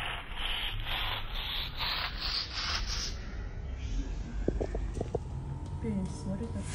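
Cleaning with a strong household cleaning product, a surface is scrubbed in steady rubbing strokes with a bristly, broadband texture, close and moderately loud, with a few brief clicks near the end.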